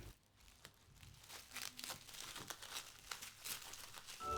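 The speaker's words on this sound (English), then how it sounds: "Cover with plastic wrapped." Plastic wrap crinkles and rustles as it is stretched over a chilled mango float dessert, a run of soft close crackles and crunches at moderate level with no talking.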